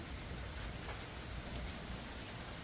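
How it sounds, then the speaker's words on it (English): Steady rain falls outdoors, a continuous soft hiss of drops on surfaces with a faint low rumble underneath, even in level throughout with no voices. "Oh, it's starting to rain."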